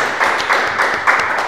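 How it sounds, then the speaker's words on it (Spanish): A church congregation applauds in a brief burst of steady, loud clapping from many hands filling the room. "Un aplauso, Señor"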